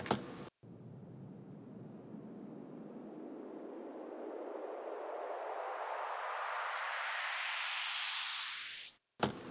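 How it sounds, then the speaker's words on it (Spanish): White-noise sweep in a hardcore music build-up, a hiss that starts low and dull and rises steadily for about nine seconds into a bright, harsh rush before cutting off abruptly. "aquí tendríamos ruido blanco"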